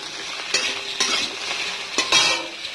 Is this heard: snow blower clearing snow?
no